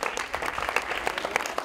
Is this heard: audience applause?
yes